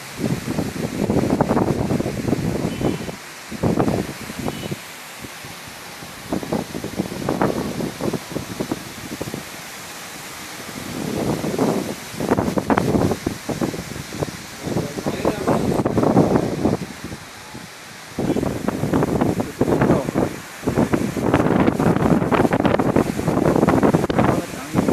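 Very strong wind gusts roar outside a mall during a storm that topples trees onto parked motorbikes, buffeting the microphone loudly in surging waves, with brief lulls and people speaking at times.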